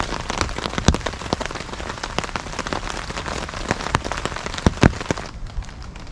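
Rain patters steadily on a tarp shelter at a wild campsite, a dense close hiss of drops with occasional louder splats, easing off near the end.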